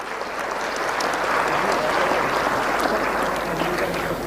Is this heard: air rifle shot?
no